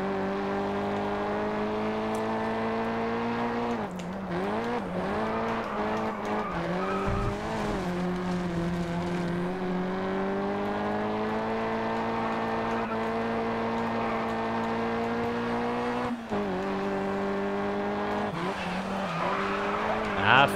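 A Volkswagen Golf racing in the video game Grid Autosport, its engine holding a steady, loud drone for the whole stretch while tires squeal and skid, with occasional faint talk underneath.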